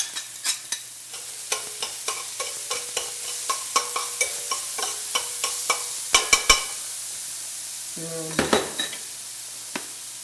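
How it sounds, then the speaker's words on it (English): Garlic sautéing in a pan as a spatula stirs it, a soft sizzle under a steady rhythm of scraping taps against the pan, with a brief burst of louder clatter near the end. "So I'm going to put the garlic and go back to the saute here and get the garlic in"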